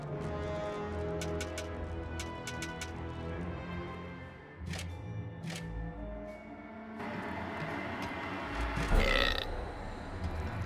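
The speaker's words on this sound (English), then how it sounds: "The hellhole rewarded the sacrifice of a live hero with a respectable burp" A loud demonic burp from the hellhole in the video game Dungeons 3, rumbling out once after a sacrifice amid game sound effects and light clicks.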